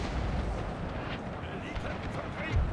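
Cannon fire in the Total War 30 Years War campaign as Habsburg: a dense, continuous battle rumble of booming artillery blasts, with a heavier boom near the end, under faint voices.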